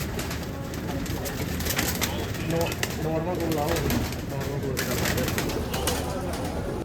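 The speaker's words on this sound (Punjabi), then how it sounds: "ਇਹਦੇ ਵਿੱਚ ਕਬੂਤਰ ਜੇ ਸਾਰੇ ਨਰ ਜੇ" Many male pigeons coo continuously close by in a rooftop coop, a dense rolling murmur with occasional rustling, while people speak briefly over the flock.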